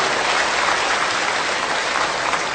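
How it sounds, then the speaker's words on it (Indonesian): Audience applause for the Kiai Kanjeng musicians at a live Indonesian gathering: steady, dense clapping from a large crowd that holds at full loudness throughout, with no voices over it. "Yuk kita bergembira, tepuk tangan untuk teman-teman Kiai Kanjeng."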